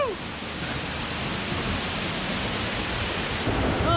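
A waterfall roars from just behind the falling curtain of water, a dense, loud, unbroken wash of noise filling the whole few seconds with no speech.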